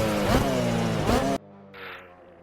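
Car engine in the Assetto Corsa racing game heard from the TV camera view, a loud droning note with two quick rising revs, then it cuts off to a much quieter distant hum.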